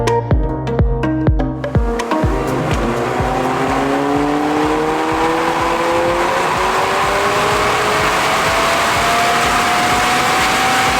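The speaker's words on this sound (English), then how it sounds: "We're going to get it run up on dyno, make some noise" McLaren 720S with downpipes and catback exhaust running on a dyno, starting with a few sharp rev blips, then climbing in one long, loud, sustained pull as the engine note rises steadily, close by with no talking.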